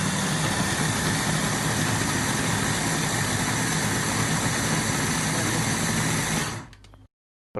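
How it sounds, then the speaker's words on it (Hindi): An electric grinder whirs loudly and steadily as it blends yogurt and spices for a chicken liver dish, then winds down and cuts off abruptly near the end. "और अब हम इन सब चीज़ों को ग्राइंड करते हैं"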